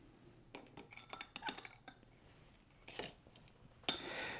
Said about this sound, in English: I'm just using a spoon to remove the marbles.